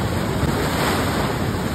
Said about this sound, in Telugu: చూడండి వాటర్ కొట్టేస్తుంది ఇంకా అటు ఇటు